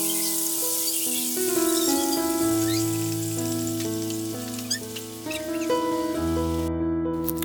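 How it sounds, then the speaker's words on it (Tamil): Chicken pieces shallow frying in hot oil in a pan for butter chicken, giving a steady close sizzle with light crackle that runs under prominent background music. "இப்போ ஆயில் ஹீட் ஆனதும் இந்த சிக்கனை வந்து 1 by 1 எடுத்து இதில் வச்சு ஃப்ரை பண்ணிக்கலாம்."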